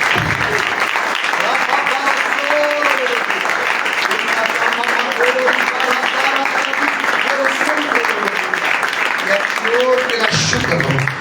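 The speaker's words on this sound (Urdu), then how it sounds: "یسوع کے خون کے لیے زوردار تالیاں بجائیں" A church congregation at a Sunday morning service breaks into loud, sustained applause, a dense wash of clapping throughout with voices calling out over it and a brief dip near the end.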